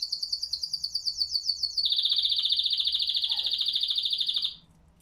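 Pet canaries chirp close by, first in quick rapid repeated notes, then a long continuous trilling song that runs for several seconds before stopping abruptly.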